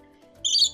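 Nectar-eating birds give a short, high-pitched squawk at close range in an immersive walk-through aviary at a zoo safari park, over a quiet background hum.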